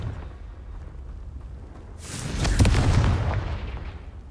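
A Confringo fire-spell explosion in the video game Hogwarts Legacy erupts as a loud, close blast with a crackling burst that peaks and then rumbles away.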